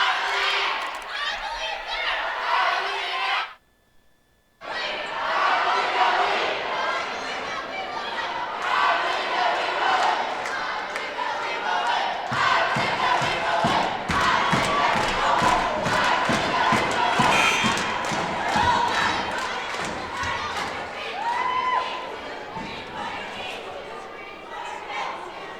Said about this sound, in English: That's what the Panther crowd is cheering right now.